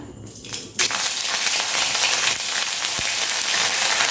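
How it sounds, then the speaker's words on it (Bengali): Ginger paste frying in hot oil in a pan, a steady broad sizzle that starts suddenly as the paste hits the oil and continues throughout, with a brief tap near the end. "আদাটা তেলের সঙ্গে ভালো করে একটু ভেজে নিয়ে"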